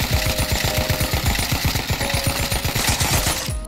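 An AK-47 fires in the VR shooter Pavlov VR, one long rapid automatic burst of loud, closely spaced shots that runs continuously and stops abruptly near the end.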